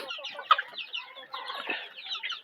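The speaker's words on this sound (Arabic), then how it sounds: "الدجيجه راه ديال فيومي الفدي" Fayoumi chickens cluck and chatter in short, overlapping bursts close by, a busy, steady run of clucks with no talking.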